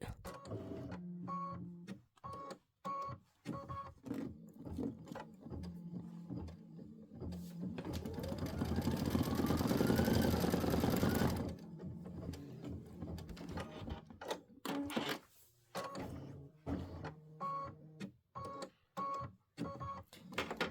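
An Aveneer embroidery machine stitches OESD Boo Manor tiling scene tiles, its rapid rhythmic needle clatter running steadily and close throughout, swelling into a denser whirring stretch partway through.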